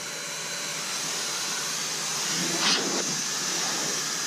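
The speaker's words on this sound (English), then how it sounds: "So I'm going to go ahead and set the blower up." A Master Blaster Sidekick car dryer blower drying a car gives a steady, loud, breathy whoosh throughout, swelling briefly in the middle with no talking.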